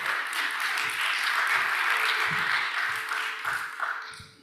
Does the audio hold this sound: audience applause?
yes